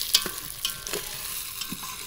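Moong dal frying and being stirred in a pan, with soft sizzling and a few sharp scraping clicks of the spoon against metal, fairly quiet and without voices.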